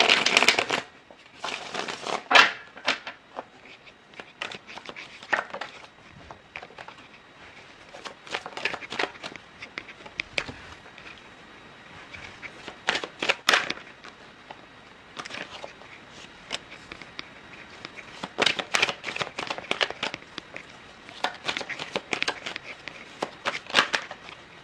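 Tarot cards being shuffled by hand in quick irregular riffles and soft slaps, close to the microphone and fairly quiet, with brief pauses between bursts.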